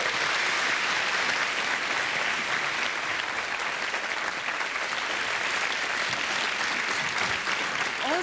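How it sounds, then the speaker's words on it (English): Sustained applause from a television studio audience, dense clapping that holds steady the whole time without a break. "You can give yourselves a round of applause"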